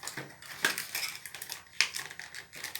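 A fruit yogurt container being pried open, with two sharp crackling, crushing pops of plastic against a quieter rustling background, close and fairly soft, with no talking.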